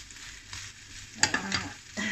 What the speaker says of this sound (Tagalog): Igisa muna natin para maluto siya